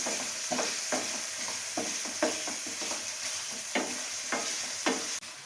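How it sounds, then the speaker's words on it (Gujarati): Capsicum, tomato and other vegetables are stirred and sautéed in a pan for farali Manchurian, a soft steady sizzle punctuated by regular scraping stirs of the spoon, close by with nobody speaking. "હવે બધાને આપણે મિક્સ 5 મિનિટ સાતળી લઈશું ચડી જાય ત્યાં લગી."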